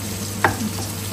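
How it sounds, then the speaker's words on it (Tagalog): Frozen eggplant fries in a pan, giving a steady soft sizzle with one brief stirring scrape partway through, alone without talk. "So, ngayon, ipiprito-prito lang natin yan."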